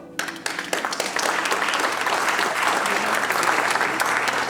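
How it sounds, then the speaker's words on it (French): A theatre audience breaks into applause during a staged performance of 1984, a few separate claps at first swelling within a second into full, sustained clapping from a large crowd. "Mesdames et messieurs, je propose que nous l'applaudissions."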